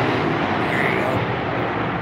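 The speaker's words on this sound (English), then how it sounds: "Here comes a plane." A fixed-wing airplane passes overhead on a snowy day in northern Ohio, its steady engine roar filling the scene loudly and continuously, with a voice speaking over it.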